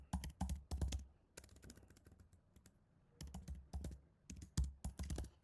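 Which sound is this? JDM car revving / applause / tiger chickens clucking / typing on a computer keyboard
typing on a computer keyboard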